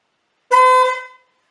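One short Fiat 500 Giardiniera car horn honk, a bright steady tone lasting about half a second before it fades out.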